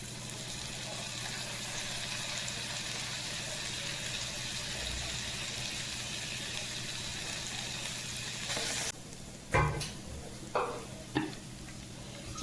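Ginger garlic paste sizzles steadily in a hot pan while cooking chicken sukka, a continuous frying hiss that drops out near the end, followed by a few louder clatters and stirring knocks.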